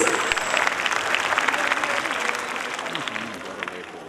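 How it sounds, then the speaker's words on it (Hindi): Audience applause fills a school annual function, a sustained wash of clapping from a crowd that holds steady and slowly fades slightly, with faint voices underneath. "जोरदार तालियां हो जाए प्लीज।"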